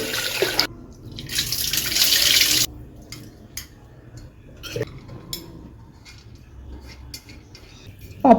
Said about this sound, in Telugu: రెండుసార్లు పప్పును మంచిగా కడిగి